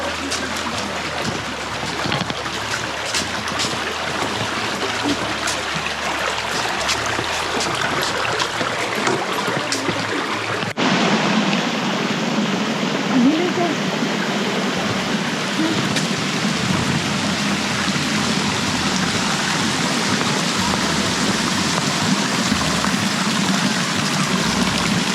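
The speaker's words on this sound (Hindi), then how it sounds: "इस वक्त हम अपर कचूरा पे अपनी काया को लेके जा रहे हैं" A kayak moves across the water at Upper Kachura, Skardu, with a steady, close wash of splashing and lapping that holds throughout and grows a little fuller partway along.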